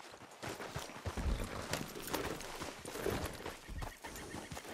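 A horse in Red Dead Redemption 2 whinnies and snorts over steady clip-clopping hooves, fairly close but quiet, with no speech.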